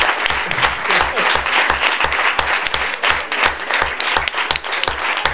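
Steady, loud applause from an audience honoring Michelle, a world champion Paralympic swimmer, at a sports complex, dense clapping continuing throughout with a faint voice underneath.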